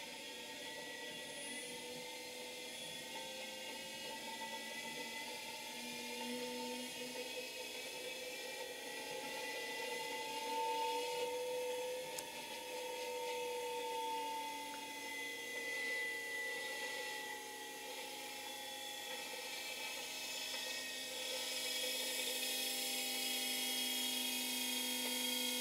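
An electric motor with no load spins steadily near 3,000 RPM, giving a sustained high whine with shifting tonal hums, moderately quiet and without talk.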